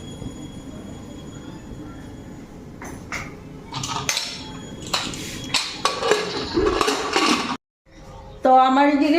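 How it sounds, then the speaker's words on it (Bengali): A pressure cooker lid is fitted onto the pot in a home kitchen, making a run of close metallic clanks, scrapes and rattles that grow louder toward the end, then stop briefly before a final clatter. "এখন প্রেশার কুকারের মুখটা লাগাই দিই।"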